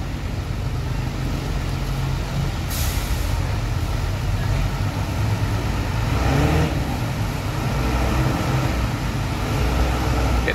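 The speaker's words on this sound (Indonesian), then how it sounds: "Ini BSI mau parkir mundur." A PT Buni Sari Indah Mandiri coach bus from Tasik reverses into a parking spot, its diesel engine idling and rumbling nearby with a few sharp air-brake hisses and a swell of revving as it moves.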